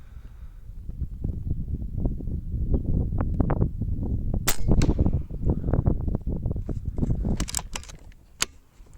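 Repeated shots from a Yeger 6.35 air rifle with front cocking, fired outdoors in rough conditions, several sharp cracks scattered over steady background noise, one louder snap near the end.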